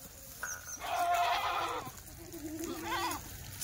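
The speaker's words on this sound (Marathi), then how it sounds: "ही शेळी बघा केवढी मोठी" A large Kathiawari goat arrived from Gujarat bleats nearby in two or three strained, wavering calls, with softer bleats from others in the background.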